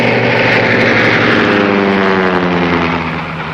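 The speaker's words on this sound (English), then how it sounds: "It's our new plane." A propeller-driven airplane, an aircraft from around 1938, drones loudly overhead with a steady multi-toned engine roar that holds strong and then begins to ease off slightly at the end.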